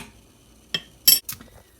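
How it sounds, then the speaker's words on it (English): A spoon stirs melting oil, coconut oil and beeswax in a pot, producing a few brief metallic clinks and scrapes against the pot over near-silence, close by. "I'm just going to stir that oil with the beeswax and help it blend in a little bit more"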